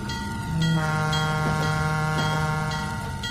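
A pair of diesel 44-tonner locomotives in the Trainz 2019 game: a loud, steady multi-tone horn blast holds for several seconds, with a rumbling engine drone beneath and faint rhythmic clanks as they pass close by.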